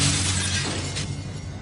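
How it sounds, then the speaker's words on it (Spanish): Glass shatters in a loud, bright crash of breaking panes, followed by a short scatter of tinkling shards. It is heard alone as a dramatic effect in a documentary about poltergeist activity in a house. "Sonaba como si se rompieran todos los cristales de mi casa."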